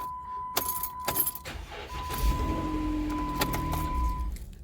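A Jeep Wrangler JK with the 3.8L engine is started cold, with a brief starter crank and the engine catching, heard under a steady electronic chime and some key jangling at close range.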